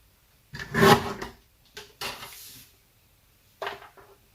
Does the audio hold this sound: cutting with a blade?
yes